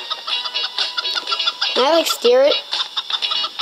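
In the video game Turbo Dismount, a chicken gives a couple of rising, squawky clucks midway through, amid game noise and a person talking.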